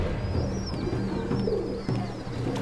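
Pigeons coo in low, repeated murmurs close by, while thin chirps rise and fall above them; no one speaks.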